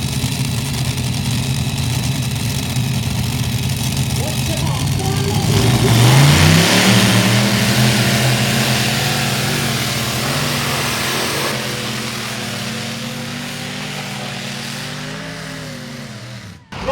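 Tractor pull engine at a Friday night event in Brechin, revving hard and rising in pitch mid-run, then holding a loud steady roar before easing off, with crowd and announcer voices in the background.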